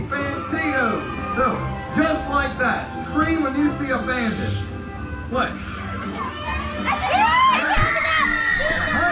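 Children in a live show audience at Tweetsie Railroad shouting and screaming together over a performer's talk, a dense crowd roar that swells into a loud burst of high-pitched screams near the end.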